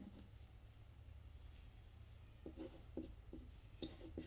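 Pen writing on paper during a Class 10 quadratic equations lesson, faint steady scratching at first, then a few short distinct strokes toward the end, with no talking.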